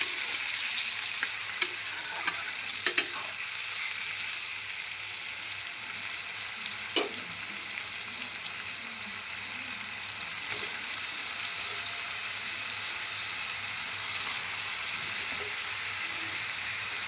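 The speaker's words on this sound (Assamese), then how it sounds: "ভোলখিনি ভালকৈ ভাজি ল'ম।" Luffa gourd and potatoes fry in a wok with a continuous, even sizzle for the whole stretch. A few sharp clicks and taps of stirring come early on and again midway.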